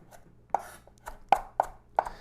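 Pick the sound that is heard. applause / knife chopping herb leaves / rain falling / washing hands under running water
knife chopping herb leaves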